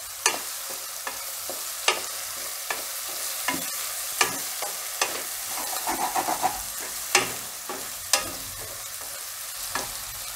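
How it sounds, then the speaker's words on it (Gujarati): Green garlic cooking in oil for a Gujarati tuver totha dish, a steady soft sizzle with frequent scraping stirs and clicks of a spoon against the pan, moderately close and without talk. "લીલું લસણ આપણે તેલમાં થોડીક વાર ચડવા દેવું."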